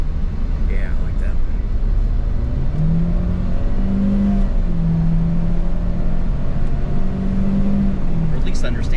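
Car engine under hard throttle, a steady loud droning roar with rising and falling engine tone throughout, while people talk over it inside the vehicle.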